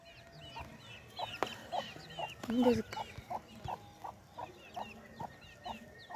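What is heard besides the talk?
chicken clucking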